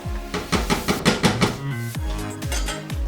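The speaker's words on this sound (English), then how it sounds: "What I'm going to do is I'm going to stir it real quick." Scalloped potatoes are stirred in a pan with quick, repeated scraping and knocking strokes. The strikes are rhythmic and close, clustered densely in the middle and then spaced a little wider.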